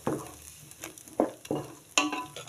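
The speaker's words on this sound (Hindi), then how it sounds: "स्टोव की फ्लेम को मीडियम में रख के इसको अच्छे से पकाना है" A finely ground spice paste cooking in oil over a medium stove flame for egg curry, with soft sizzling and several distinct stirring scrapes and clanks of a spoon against the pan.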